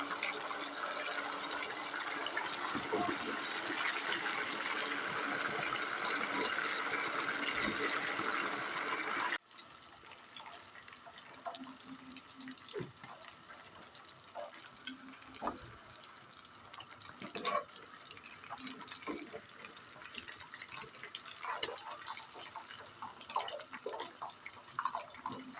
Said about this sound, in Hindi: चिकन हमारा फ्राई हो रहा है